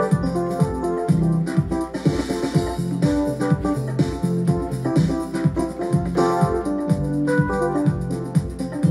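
A keyboard melody stepping fa, sol, fa, do plays over an added drum beat, with a steady loud kick pulse under sustained harmonic chords and no voices.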